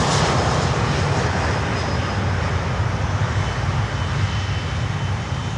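An Avianca Cargo jet passing at Miami airport gives a loud, steady broadband engine roar that stays strong throughout, close and unbroken.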